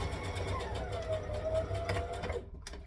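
A sewing machine runs steadily while stitching a sleeve, its rapid, even whir close and continuous, then it stops abruptly near the end.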